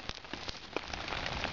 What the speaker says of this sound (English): it is raining out